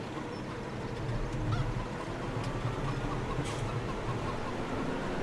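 Chickens clucking and honking in Farming Simulator 17: steady, fairly close fowl calls in a busy, low farmyard noise, with no talk.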